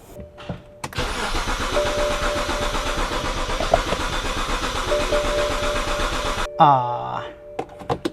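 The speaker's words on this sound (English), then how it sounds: "Now the car cranks but doesn't start." A BMW E90 330i cranks but will not fire: the starter turns the engine in a rapid rhythmic chug for about five seconds and then stops. A few brief voice sounds follow.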